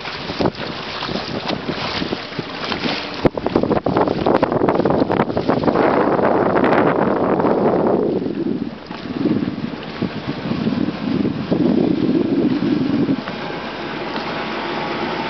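A boat motor running rough near an ocean inlet at Stump Pass, heard as a loud, steady rumble heavily buffeted by wind noise and moving water throughout.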